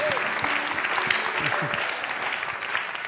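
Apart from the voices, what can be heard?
audience applause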